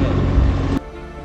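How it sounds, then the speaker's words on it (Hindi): A motorboat engine drones over rushing water and wind at Kumbhalgarh, India, loud and steady, then cuts to a quieter hum partway through. "मोटर बोट बैठे हो क्या?"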